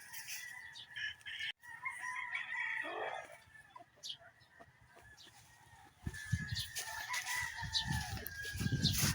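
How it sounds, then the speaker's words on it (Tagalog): Chickens cluck and a rooster crows in a farmyard outdoors, faint and somewhat distant, with scattered rustling and background noise and no clear talk. "Ganda ng mga manok"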